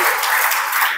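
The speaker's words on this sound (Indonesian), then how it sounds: "Kasih tepuk tangan untuk Tuhan." A church congregation claps for God during a sermon, a dense, steady wash of many hands that fills the whole second at close range with no talk over it.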